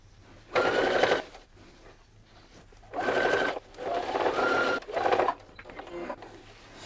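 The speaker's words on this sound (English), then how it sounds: "So now all I have to do is sew down this little hole that I have left." A sewing machine stitches down a small hole left in a flange quilt binding, running in several close, steady bursts of motor whir and needle chatter separated by short pauses.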